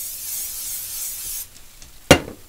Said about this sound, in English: I am going to do a quick spray.